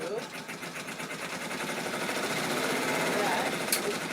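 An embroidery machine stitching a pocket on an order, a continuous fast mechanical whirring chatter at close range that holds steady throughout, with no talk over it.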